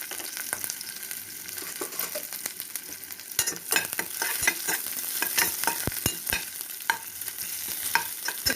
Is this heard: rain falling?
no